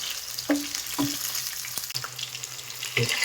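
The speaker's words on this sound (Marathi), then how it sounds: "त्यामुळे तेलाचा आवाज येत आहे." Brinjal pieces sizzle and spit in hot oil in a bowl with a little water, a steady close fry crackle broken by sharp pops and stirring clinks, with no one talking.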